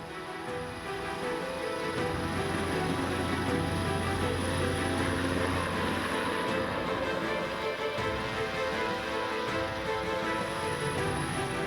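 A military helicopter's steady rotor and engine drone fills the scene during an evacuation in the Pegunungan Bintang mountains, loud and continuous, with no talking.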